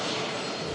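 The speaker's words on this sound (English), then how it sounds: "Bit of bizjet action as well. Aircraft in shot there. Cessna 550 citation." A Cessna 550 Citation business jet at Manchester Airport gives a steady, broad engine roar with a hiss on top. The roar stays loud and continuous through the whole short stretch, with no voices over it.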